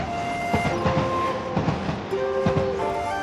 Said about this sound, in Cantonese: 咁啱有火車經過，即刻影低呢個鐵路櫻花景先。